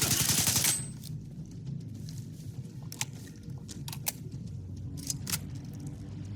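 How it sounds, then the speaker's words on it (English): Slow weapon reload in S.T.A.L.K.E.R. 2, a string of metallic clicks and clacks spaced out over several seconds at moderate volume after a brief loud burst at the start. "Notice how long this gun takes to reload."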